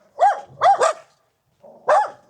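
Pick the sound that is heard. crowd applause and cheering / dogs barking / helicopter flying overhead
dogs barking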